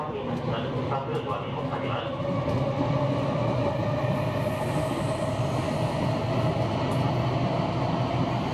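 Sotetsu Shin-Yokohama Line train running through a shield-bored tunnel, a steady loud rumble and roar of wheels and motors with faint squeals, continuous throughout with no talking.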